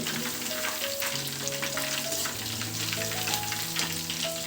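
Curry leaves and chicken kabab pieces fry steadily in hot oil, a dense continuous sizzle and crackle with brief stirring scrapes, close and fairly loud, no talking.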